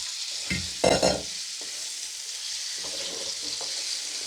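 Liver frying in a pan, a steady sizzling hiss close by, broken near the start by a few loud clanking stirs, then softer scraping later.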